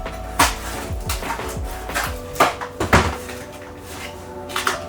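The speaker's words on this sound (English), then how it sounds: "let's open this little fire grate." The small metal fire grate of a Yoder Smokers pizza oven being opened, a series of close clanks and scrapes with a few sharper knocks as it is worked loose.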